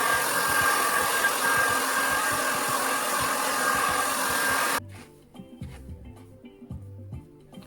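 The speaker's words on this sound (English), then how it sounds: "I'm just going to blow dry it in place" A hair dryer blows a steady, loud whooshing drone for about five seconds, then shuts off abruptly, leaving only faint low handling noises.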